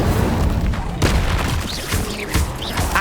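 The Incendio fire spell is cast in Hogwarts Legacy, giving a couple of loud whooshing, booming bursts over a dense, rumbling game soundscape.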